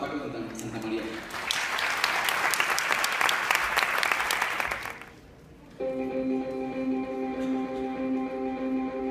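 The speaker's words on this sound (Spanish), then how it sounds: "Recibamos un fuerte aplauso a Paco Santamaría." Loud applause from a conference audience welcoming a speaker fills the first five seconds, then fades out; a sustained tonal music-like sound follows.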